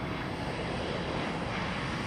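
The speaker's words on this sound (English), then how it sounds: "the company's fleet of airplanes hums along about 400 miles away at Worldport in Louisville" Heavy UPS jet airplanes at the Worldport air hub in Louisville, Kentucky, give off a steady, broad engine roar that holds even and unbroken throughout, with no voices.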